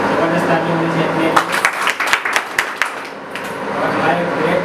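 A crowd at an event claps in a burst of sharp, uneven hand claps that rise and fade over a few seconds, under a steady hum of room noise and murmur.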